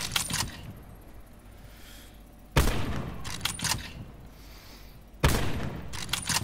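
Gunfire in the video game Call of Duty Black Ops 4, sharp loud bursts of shots at intervals with quieter game ambience and rustling between them.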